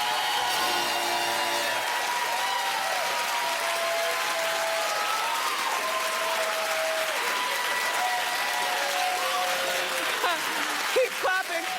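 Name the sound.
studio audience applause on a talk show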